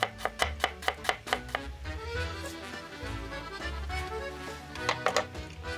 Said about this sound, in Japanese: ニンニクは1片皮を剥いて細かくみじん切りにします